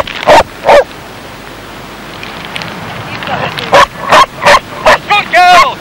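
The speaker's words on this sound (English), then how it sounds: "8 hours after the call out, comes the excited barking that tells Andy the search is over." A search dog barks excitedly on finding its target in a mountain search, a quick series of sharp, loud yelps, with a few whimpering calls mixed in near the end.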